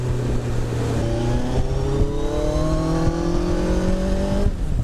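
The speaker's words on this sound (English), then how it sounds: "It feels like I've got a gearbox full of 2nd gear because all it's doing is revving." A Gen1 Kawasaki Hayabusa's engine revs hard and climbs steadily in pitch across a gear, loud and close with rising harmonics and a brief shift break, no talking.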